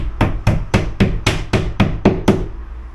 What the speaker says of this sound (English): So if you had to tap the hinge up and down, get the hammer on.